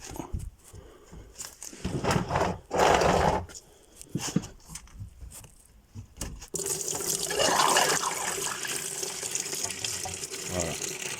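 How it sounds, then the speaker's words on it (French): Coolant draining and splashing from a pulled radiator hose on a Citroën C3, a steady liquid gush that grows louder and fuller partway through, with no talking. "je vais tirer sur mon tuyau pour vider"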